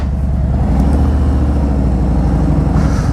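Harley-Davidson Road Glide motorcycle engine running loud and close, a deep steady rumble with a low throbbing pulse that holds throughout without a sharp rev.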